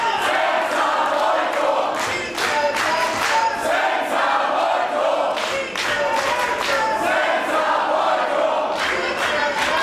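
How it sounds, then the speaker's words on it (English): A loud, roaring crowd fills an independent wrestling show arena, with constant chanting and cheering and sharp bursts of clapping and shouts throughout. "if the strategy for Harting was to take the crowd out of the game, it's been an unsuccessful one so far. They are as loud as ever."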